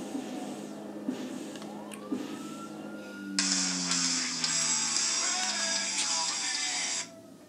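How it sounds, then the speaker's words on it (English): An alarm goes off midway, a loud harsh electronic tone that starts abruptly and holds for several seconds before stopping, over a lower background of racing-game engine noise. "That was my alarm."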